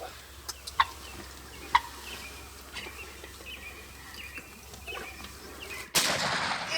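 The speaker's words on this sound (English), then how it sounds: "Get on his head and shoot him, Landon." A single sharp gunshot is fired at a wild turkey during the first day of the Wisconsin youth season. Faint outdoor ticks and chirps come before it, then one loud blast near the end.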